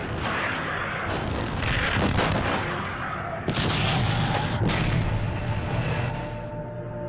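The German Schwerer Gustav 80 cm heavy artillery gun firing during the siege of Brest fortress, heavy booming blasts with long rolling rumble, two distinct loud concussions a few seconds apart amid continuous battlefield noise.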